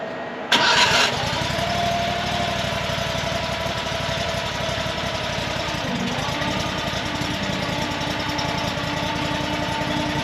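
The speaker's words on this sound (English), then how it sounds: "We're gonna see if we get that thing spinning. Give her a shot, see who gets soaked in oil." A JQ400 mini skid steer grinder engine fires up abruptly after a brief silence, then settles into a loud, steady, even mid-pitched running drone that continues unbroken to the end.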